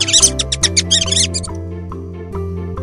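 A mouse gives a rapid run of high, thin squeaks and chirps at the start, then the squeaks fade into faint scattered peeps over a steady low musical background.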